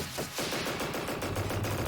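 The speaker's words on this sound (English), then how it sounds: "With a very satisfying explosion" An explosion in the video game Trails in the Sky the 3rd, heard as a dense crackling burst of rapid blasts that rumbles on steadily for about two seconds, loud and without talk.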